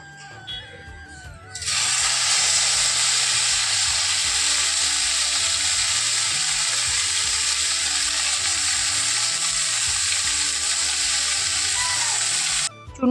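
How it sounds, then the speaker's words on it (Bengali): Small fish sizzle loudly in a hot pan at home, a sudden bright burst of frying that holds steady and close for many seconds before cutting off, with faint kitchen noises underneath. "চলো মাছ ভাজাটা বসিয়ে দিই"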